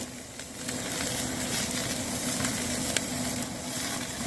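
Food sears on a Camp Chef Woodwind pellet grill, giving a loud, steady, close sizzle with a low hum underneath and a faint tick or two.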